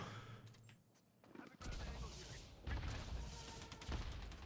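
A missile explodes in a video game, a deep booming blast followed by rumbling crashes and lingering low roar, loud and heavy, with a player talking around it.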